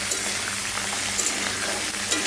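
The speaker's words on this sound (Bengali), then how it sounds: "যে সবজিগুলো কেটে রেখেছিলাম সব এখন আমি একসাথে দিয়ে দেবো, সামান্য একটু ভাজবো।" Chopped vegetables fry in a pan for a dalia breakfast, giving a steady, close sizzling hiss with faint stirring movements and no voices.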